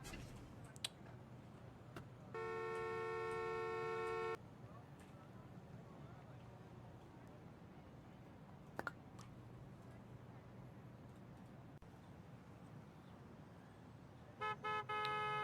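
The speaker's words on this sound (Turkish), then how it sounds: "Bir de korna yapıyor ya." Two bursts of a car horn honking in the video game Parking Tycoon: Business Simulator, one long blast of about two seconds and a shorter one at the end, over steady background engine rumble.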